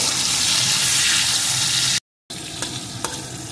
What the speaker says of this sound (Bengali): টমেটোটাও একটু ভেজে নেব।